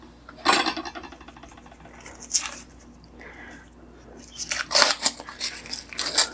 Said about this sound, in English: We are going to just chop off the top of this and peel off the outer